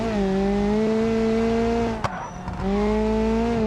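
A car in the BeamNG video game launches from a standing start with wheelspin, a loud sustained engine drone with squealing tires that briefly breaks off and then resumes, no talking.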